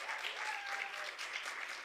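Steady audience applause fills the whole stretch at a women-in-media event, a broad, even wash of clapping with no voices over it.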